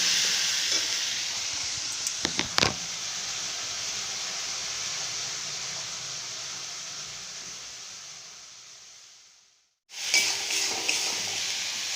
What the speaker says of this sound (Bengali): ভালো করে এবার একটু আমরা নেড়ে ভেজে নেব এটা।